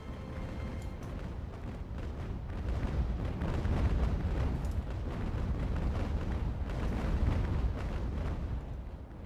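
Broadside cannon fire from sailing warships in Ultimate Admiral: Age of Sail booms in a dense, continuous rumble of overlapping shots, swelling louder midway and holding heavy throughout.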